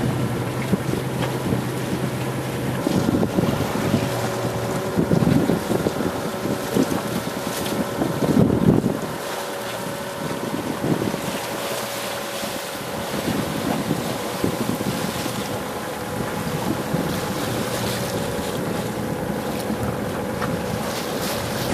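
A sailboat motors slowly through open water off Vava'u, Tonga, heading toward Hunga Lagoon, with a steady engine drone, wind buffeting the microphone and water washing along the hull throughout.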